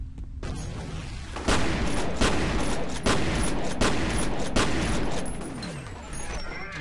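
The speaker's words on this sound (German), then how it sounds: "Granatenhagel!" Explosions and rapid gunfire erupt in the F.E.A.R. video game, a dense barrage of loud grenade blasts arriving in heavy bursts about every second over sustained shooting, with a voice briefly audible.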